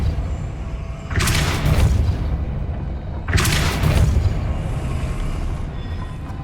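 Two heavy, booming magical blasts from the Depulso spell in Hogwarts Legacy, each a loud rumbling burst about two seconds apart over a steady low background hum.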